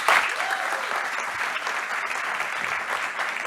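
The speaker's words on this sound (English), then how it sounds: "So maybe let's give a little bit of an applause for the organizers as well." Conference audience applauding the event organizers after a web development talk, a brisk, continuous clatter of many hands from a moderately sized crowd, steady from start to finish with a slightly louder burst at the very beginning.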